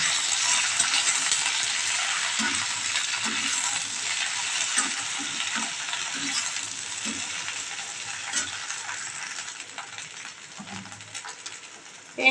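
Okra frying in hot oil with nigella seeds, a steady close sizzle throughout with light scraping and stirring taps against the pan.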